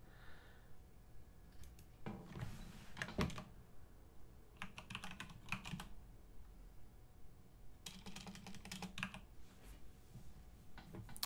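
Someone types on a computer keyboard, fairly faint, in short bursts of rapid key clicks separated by pauses, with no speech.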